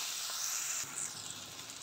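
Spices such as turmeric and red chili powder fry with vegetables in a pan for a poha dish, making a soft, steady, hissing sizzle that runs unbroken.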